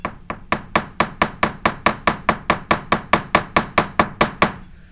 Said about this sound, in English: And then I'm going to hammer this way.